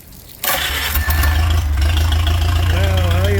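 A rebuilt Palmer 60 engine cranks over after a brief quiet moment, then catches and settles into a steady, loud idle with a deep low-frequency throb that runs on without a break.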